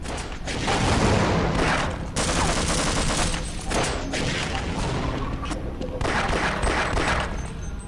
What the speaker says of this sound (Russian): Война автоматов, в которой Дарк проигрывает